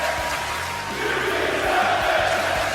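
Arena crowd in the WWE 2K wrestling video game, a steady loud roar of cheering and shouting that fills the whole stretch without a break.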